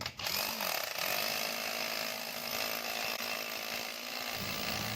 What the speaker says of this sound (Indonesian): bor hammer, bor impact tipe J28. Oke, kita mau coba di batu fondasi besar.